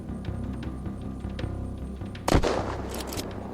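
A single sharp gunshot in the video game Unturned, fired in arena mode, cracks loudly over a steady low game ambience and trails off in a short rumbling decay.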